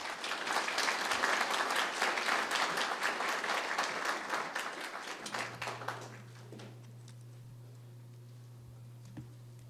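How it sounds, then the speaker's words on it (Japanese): Audience applause at a lecture on art, culture and freedom, a dense, loud patter of many hands for the first five seconds, then thinning to scattered claps before fading into a steady low hum and near quiet. "もう一度拍手をお願いします。"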